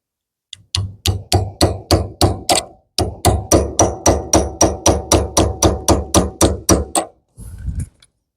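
Rapid, steady hammer blows, about two dozen sharp metallic strikes in quick rhythm with a short pause partway, ending in a softer scrape.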